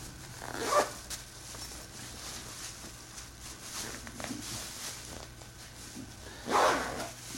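A zipper runs along the flap of a camera bag, with a couple of short, rasping zip strokes close by against a low steady background hum and light handling noise.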